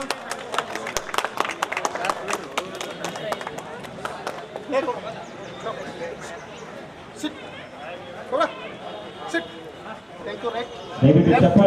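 Audience clapping at a pet animal show in Ramdurg town, with a burst of dense, fast claps early on that thins into scattered claps under ongoing talk and crowd chatter.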